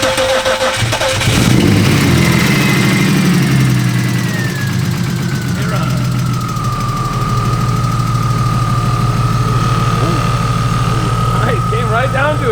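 A BMW E30 with a swapped-in S52 engine cranks and fires up, then settles into a steady, loud, rumbling idle close to the microphone.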